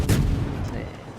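A warship's artillery salvo fires in World of Warships, a single loud booming blast up close that rolls off into a fading rumble.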